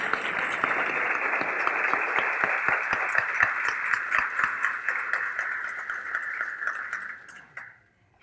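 An audience at a ribbon-cutting ceremony for a college innovation center claps loudly and steadily, many individual claps standing out, before the applause quickly dies away into silence.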